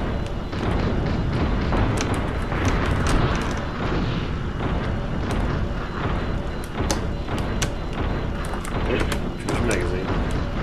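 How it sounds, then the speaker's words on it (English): Gunfire in the mech combat video game Steel Battalion, with repeated sharp shots and bursts crackling over a dense, rumbling battle background. "Shots."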